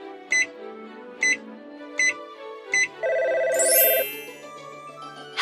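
Phone keypad tones sound as four evenly spaced short beeps, dialed from inside a stuck elevator, followed by a sustained electronic ringing tone and a rising chirp, loud and close with no talk.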